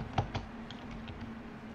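Computer keyboard typing during a tabletop fantasy match, with a few sharp key clicks at the start followed by faint, sparse tapping under a steady low hum.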